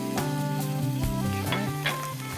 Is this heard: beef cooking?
yes